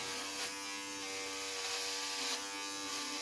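Electric hair clippers buzz steadily and close up as they shave a man's head at home, a continuous harmonic whine with slight shifts in pitch as the blades move through the hair.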